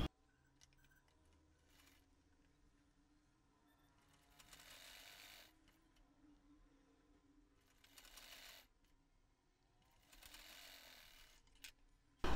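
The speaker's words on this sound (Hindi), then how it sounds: "फिर ये इस तरीके से जो अभी सिलाई लगाई थी उसी के ऊपर रख के सिलाई लगा देनी है।" Domestic sewing machine stitching invisible gota patti lace onto a garment sleeve, heard in several bursts of steady whirring with quiet pauses between, fairly faint and close, no talking.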